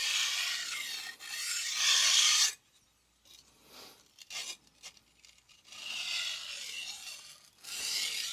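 Steel of a Magnacut funayuki knife rasps across a King Hyper 1k whetstone in light-pressure strokes, close and crisp, in two long bursts separated by a quieter stretch of small scrapes and handling sounds.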